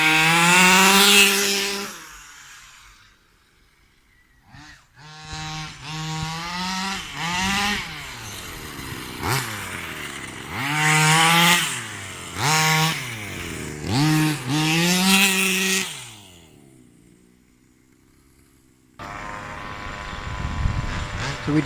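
A Rovan Baja 45cc RC car's two-stroke engine revs in loud, high, rising and falling bursts, dropping away between runs, then picks up again briefly at the end.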